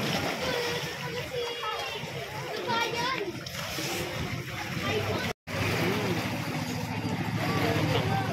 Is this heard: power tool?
no